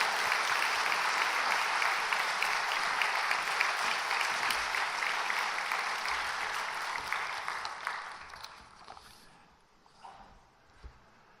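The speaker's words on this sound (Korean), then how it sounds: "여러분들 사랑과 감사의 마음을 담아서 환영의 박수로 우리 목사님을 모시도록 하겠습니다." A church congregation at a Korean Sunday service claps warmly to welcome a visiting pastor, a full, sustained applause that gradually thins out and fades to scattered claps near the end.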